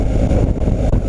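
BMW R 1250 GS boxer-twin motorcycle engine accelerating on a test ride, a loud, steady low roar with heavy wind rush throughout the short span.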